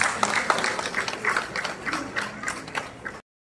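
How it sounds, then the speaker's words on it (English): A crowd at a kindergarten moving-up ceremony applauds a speaker, giving dense, fairly loud clapping for about three seconds before it cuts off abruptly. "A round of applause for her,"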